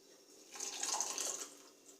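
Freshly boiled water poured into a mug of coffee, a soft steady splashing stream that builds midway and tapers off, close by with no talking.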